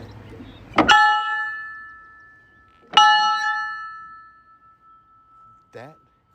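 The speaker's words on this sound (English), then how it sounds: "And then the bell." Two loud metallic strikes of a train locomotive's bell ring out about two seconds apart, each with a long, shimmering decay, heard close up from atop the train; a short voice sound follows near the end.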